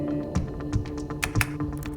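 Computer keyboard keys are pressed in quick, uneven clicks and taps, close up, forming a short burst of typing.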